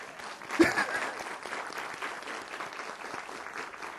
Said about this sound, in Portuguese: eu queria pedir uma salva de palmas para Ana Santos.